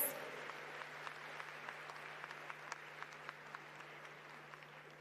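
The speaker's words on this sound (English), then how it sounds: "Let's give them a warmer round of applause." Steady applause from a crowd, many hands clapping together at an even level throughout, with a faint low hum underneath.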